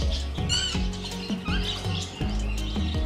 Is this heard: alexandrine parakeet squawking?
yes